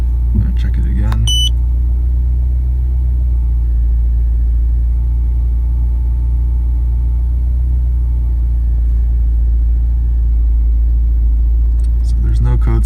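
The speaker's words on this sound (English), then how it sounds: "Now that the car is on" A Mini Cooper S R56 engine idles steadily after a rear oxygen sensor install, a constant low rumble close by, with brief voices and clicks at the start and end.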